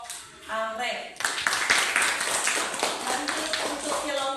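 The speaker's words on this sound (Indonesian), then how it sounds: "Tepuk tangan untuk kelompok Anggrek." Classmates clap for a student group after its presentation in a classroom, a short speaking voice first and then a scattered, moderately loud patter of hands with voices underneath.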